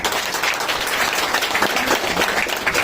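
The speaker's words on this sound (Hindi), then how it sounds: "इस बात पर एक ताली तो जरूर बनता विधायक जी की।" A crowd at a village panchayat committee meeting breaks into applause, a dense, steady patter of many hands clapping together for the whole stretch, moderately loud and close.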